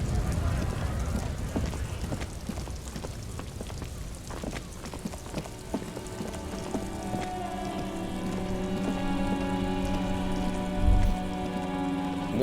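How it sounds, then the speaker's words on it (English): Steady rain falls in the video game Disco Elysium, a dense continuous patter of drops on surfaces throughout, with a sustained musical tone rising underneath in the later part. "Rain drips from the eaves and floods the gutters, washing the filth away."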